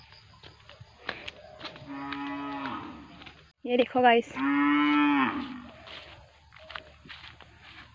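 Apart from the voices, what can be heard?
cow mooing in a field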